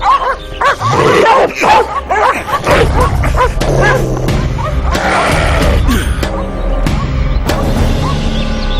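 Several dogs bark loudly and continuously, their overlapping yelps and barks close by, with some whimpering and a few crashing knocks mixed into the noisy scene.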